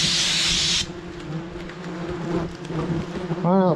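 Dense buzzing of a huge swarm of wasps around their nest, a steady loud drone filling the first second, then a thinner hum with scattered wing buzzes and a short harmonic burst near the end.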